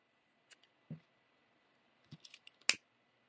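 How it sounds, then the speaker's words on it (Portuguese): Scissors snip crochet yarn close to the work, a few sharp separate clicks and cuts heard near and alone in a quiet room. "eu coloco o fio aqui pra cima, corto bem rente"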